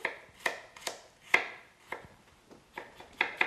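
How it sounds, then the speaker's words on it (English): A knife chops garlic on a cutting board with about nine crisp, spaced strikes in an uneven rhythm, close and clear in a quiet home kitchen. "while I chop some garlic for that"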